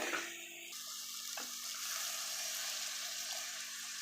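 Water poured into a pot of chicken curry being cooked to go with chapati gives a steady, moderate splashing pour that runs for a few seconds, with no voices over it.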